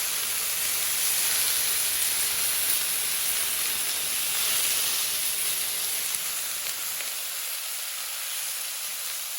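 A big piece of beef searing on a hot griddle, a loud, dense, continuous hiss that holds steady throughout and eases slightly toward the end, with no talking.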